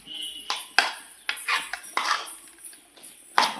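Bread spread being mixed in a large metal pot, with close, irregular clinks and scrapes of a spoon against the pot in short bursts, no talking.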